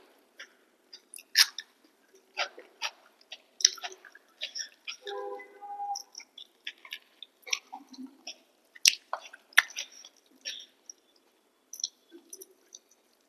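Close, wet crunching of someone chewing a freshly cut salad with onion and chilli alongside rice and dal, irregular bites and squishes repeating across the stretch with no talking.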